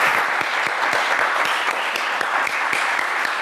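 Studio audience applauding on a television talk show, sustained dense clapping with some individual claps standing out sharply, steady and loud throughout without talk.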